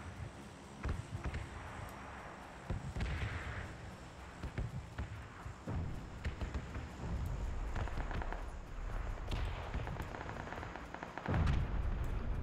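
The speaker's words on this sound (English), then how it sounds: "He got me with the nade." Grenade explosions and gunfire in the online shooter PUBG, several muffled booms and scattered shots at moderate distance against a steady game background, with no one talking.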